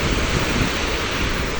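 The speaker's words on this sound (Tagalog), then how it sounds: "oh, yung alon." Ocean surf rolls onto a beach in La Union, a steady loud wash of breaking waves mixed with buffeting wind noise on the microphone, continuous with no talk.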